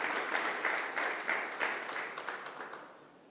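Church congregation applauding together, a broad wash of clapping with a few louder surges that tapers off toward the end, moderately distant and without speech.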